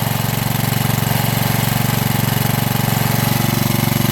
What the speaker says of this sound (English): So that's a lot more pleasant to listen to than a bigger generator running 3600 RPM the whole time.